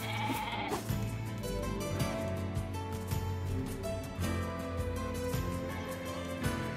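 Sheep bleat repeatedly in NieR Replicant over a dense, steady backdrop of game music and effects, the calls overlapping and fairly loud.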